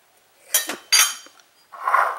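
Frying pan and cooking oil handled in a home kitchen while preparing popcorn, giving two quick metallic clanks close up, followed by a softer scraping knock.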